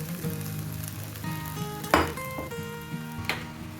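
Cooked rice tipped into a hot pan with roasted peanuts and grated coconut, a steady close sizzle with occasional scraping stirs and clinks of utensil against the pan, no voices.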